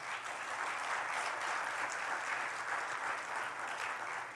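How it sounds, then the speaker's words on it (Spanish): A congregation at a church sermon applauds together, a sustained and even wash of clapping at moderate loudness, heard alone without talk. "Denle un aplauso a Jesús."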